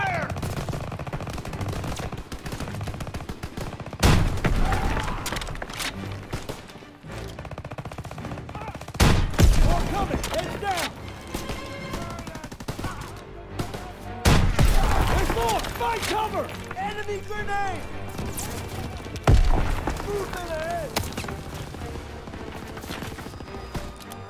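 Gunfire in the Call of Duty WW2 video game bursts in loud volleys every few seconds over ongoing battle noise, with voices shouting between the shots.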